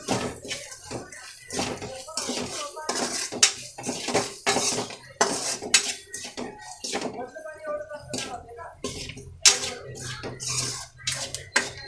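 Salt and spices are stirred into okra curry in a pan, with a spoon clinking and scraping against the metal in irregular bursts of sharp, close knocks and rattles.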